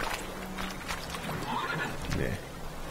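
Horse whinny and clip-clop hooves from The Witcher 3 game near a river, moderately loud and mixed under ongoing speech.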